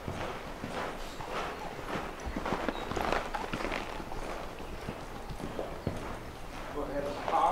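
A loping horse's hooves clip-clop steadily and rhythmically on an arena surface as the rider moves off, with a person talking throughout over the hoofbeats.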